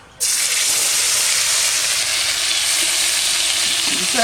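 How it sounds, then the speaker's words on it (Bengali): Ritha fish pieces frying in hot oil in a wok, a loud, steady sizzle that bursts in suddenly and holds close and continuous throughout. "ওইদিকে মা কড়াইয়ে তেল গরম করে দিয়েছে এখন আমি মাছগুলো দিয়ে দেবো"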